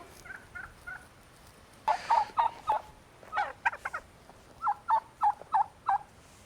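Turkey tom gobbling in a barnyard, several rapid rattling gobble bursts in a row with short pauses between, fairly close and clear against a quiet outdoor background.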